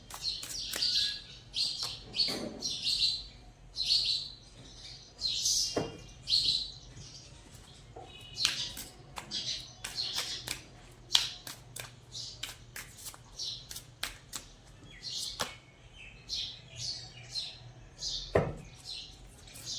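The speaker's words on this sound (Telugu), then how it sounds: "ఈరోజు మా ఇంట్లో పిచ్చుకలు ఇవన్నీ ఎక్కువగా ఉన్నాయి" House sparrows chirping indoors, a busy run of sharp bright tweets and chirps scattered throughout, moderately close and fairly soft, with no voices.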